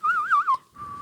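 A person whistles a short tune, a quick wavering melody of a few notes followed by a brief pause and one sustained held note, close and alone without talk.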